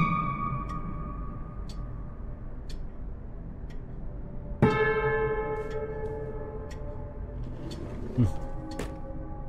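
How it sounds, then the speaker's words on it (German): Church bells ring in the video game The Nightfall. A large bell is struck loudly once, then again a few seconds later, and each strike rings out over a quieter ticking, tolling background. "Es läuten die Glocken zum jüngsten Gericht"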